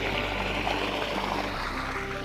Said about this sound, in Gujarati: આપણે પાણી ચાલુ કરી નાખીએ છીએ